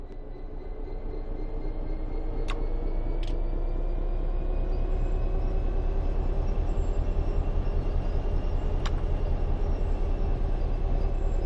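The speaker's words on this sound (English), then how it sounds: "Apply some throttle to get the train moving." A train in Train Sim World 3 accelerates under throttle, its low engine rumble and rhythmic wheel clatter building steadily in loudness, with a few faint high clicks over the top.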